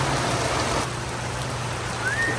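Steady rain pours down at a Disney resort, an even, dense hiss of drops striking surfaces close by, with no voices.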